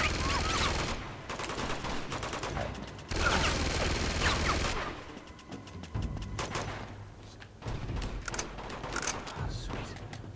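Sustained automatic gunfire from Uncharted 2: Among Thieves, heavy rattling bursts that stop and restart amid clanking mechanical noise, with a voice briefly heard in between.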